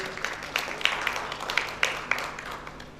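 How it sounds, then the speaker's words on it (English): Audience applause at an award ceremony, a modest round of clapping from a small crowd with several distinct claps standing out, steady for about three seconds before tapering off. "Round of applause, please."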